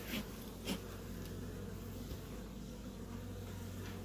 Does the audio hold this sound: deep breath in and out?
no